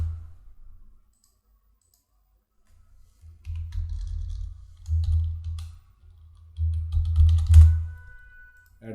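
Computer keyboard typing and mouse clicking while filing a tax audit report form, soft close clicks and taps in short bursts with quiet gaps, no talking.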